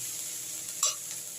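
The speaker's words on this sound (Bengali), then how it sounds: "আমার কিন্তু অলরেডি মশলাটা ভাজা হয়ে গেছে" Spices sizzle in a pan with a steady, close crackle, and a single brief scrape or clink sounds as they are stirred.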